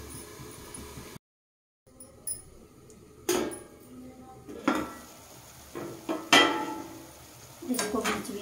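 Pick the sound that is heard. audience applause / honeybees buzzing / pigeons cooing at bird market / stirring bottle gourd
stirring bottle gourd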